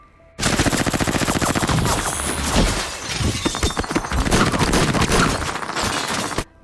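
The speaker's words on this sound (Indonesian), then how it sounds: "Setelah melihat wajah David, para pasukan segera melepaskan tembakan bertubi-tubi." Soldiers open fire on a house in a film, unleashing a loud, dense burst of rapid automatic gunfire that rattles almost without pause for several seconds, with crackling and shattering mixed in.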